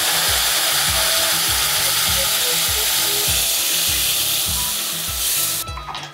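Raw tamarind pieces hit a hot frying pan for a gojju gravy, and a loud, close, hissing sizzle fills the pan. It carries a regular scraping pulse underneath and cuts off abruptly just before the end.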